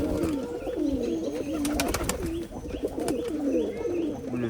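Old-breed Khulna high-flying pigeons coo steadily in repeated low, throaty rolling calls, close and continuous, with a few brief clicks and chirps mixed in.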